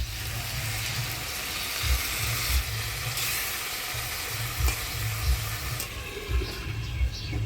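Taro stolons stirred with dried fish, turmeric, salt and spices in a hot pan, giving a steady loud sizzle and hiss throughout. Periodic low scraping thumps come from the stirring, with no voices.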